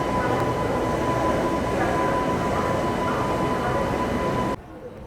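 The Amrit Bharat Express rumbles with a steady low roar of wheels and carriage noise around Asansol Junction at night, continuous and close, before the sound drops sharply near the end.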